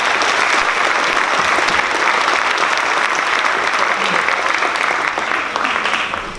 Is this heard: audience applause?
yes